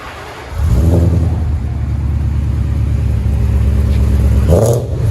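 A 2011 Ford Mustang GT 5.0 Coyote V8 with true dual exhaust, long tube headers and quad tips revs up from idle into a loud, sustained deep rumble, held steady then dropping back near the end.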